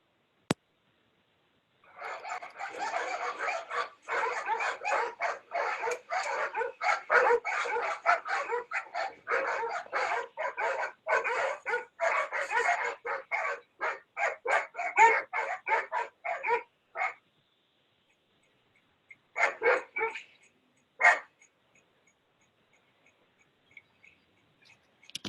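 Several dogs bark and yap rapidly behind a gate, a dense, loud stretch of overlapping barks that stops abruptly, followed by a few isolated barks near the end.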